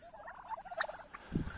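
Red Bourbon and white turkeys out at winter pasture give a short, close burst of bubbling gobbles, followed by a lower gobble near the end.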